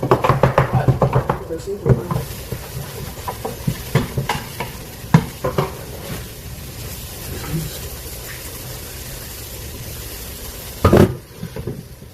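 Onions browning in a pan for keto chili, with steady sizzling and occasional stirring clatter throughout; a louder scrape or clatter lands near the end, and voices talk over parts of it.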